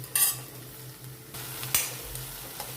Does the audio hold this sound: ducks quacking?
no